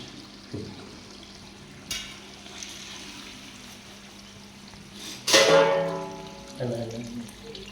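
Onions fry golden in hot oil for a chicken roast, a steady low sizzle broken by a few sharp clatters and a louder stirring burst near the end.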